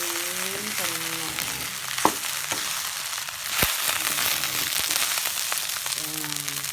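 Salted fish fried rice with oregano sizzles and crackles steadily in a hot pan, with occasional sharp pops and scrapes from stirring. A person talks briefly at the start and again near the end.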